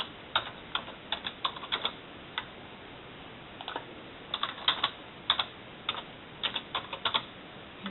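Computer keyboard keys tapped in short irregular bursts of light clicks, quiet and close, with pauses between groups while a password is typed.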